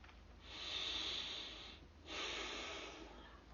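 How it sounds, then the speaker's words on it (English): Nasal breathing during a stretching exercise: two long, steady breaths drawn through the nose, each a soft airy hiss with a brief pause between, close to the microphone and alone. "Stretching, breathing through the nose."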